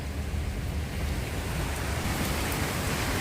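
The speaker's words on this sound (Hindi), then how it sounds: "देखो घर के यहीं बारिश आ रही है, बहुत मस्त।" Steady, dense rain hisses continuously, a broad even wash of sound with no voices.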